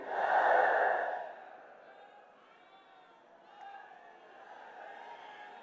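A rally crowd at a PM Modi event in Lucknow lets out a loud surge of cheering and chanting that fades within about a second into a low, steady murmur of a large gathering.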